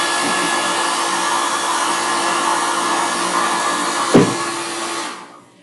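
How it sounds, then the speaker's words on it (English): A hair dryer blows with a steady, loud whooshing roar close to the microphone, drying craft work, a brief knock near the end, then it switches off and winds down. "With my handy dandy hairdryer."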